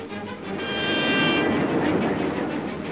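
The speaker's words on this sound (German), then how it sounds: "Aus allen Abbaurevieren rollen die Züge ununterbrochen zum Schacht." A steady, loud rumbling roll of underground potash mine train wagons with a metallic whine, continuous throughout as the cars move along the track.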